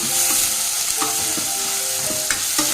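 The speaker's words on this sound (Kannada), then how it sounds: "ಈರುಳ್ಳಿ ಚೆನ್ನಾಗಿ ಫ್ರೈ ಆಗಬೇಕು." Onions fry in hot oil in a pan for sambar. A loud, steady close sizzle runs throughout, with brief knocks and scrapes of a spatula stirring. No voices are heard.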